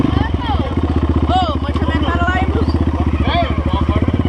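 Honda CRF 230 trail bike engine idling and revving nearby in a steady rapid thumping pulse throughout, with people talking over it.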